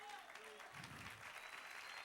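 A church congregation claps together in a sustained burst of applause, the sound dense and roomy, though it comes through quietly and slightly distant.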